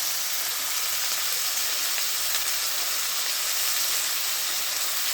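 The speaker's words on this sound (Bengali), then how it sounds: "ভালো করে ভেজে নিই।" Fish fries in a pan with a steady, dense sizzle and crackle, a continuous bright hiss with no talking over it.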